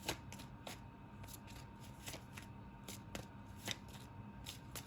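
Cards being shuffled over and over, a quiet soft riffling with crisp flicks at an uneven rhythm, close up and fairly faint.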